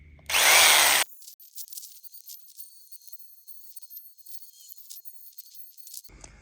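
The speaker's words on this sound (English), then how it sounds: "I can join the dots with a jigsaw." A jigsaw cutting plastic rails for a garage hydroponic system gives a loud, harsh buzzing burst of about a second, then stops, leaving only faint rattles and clicks.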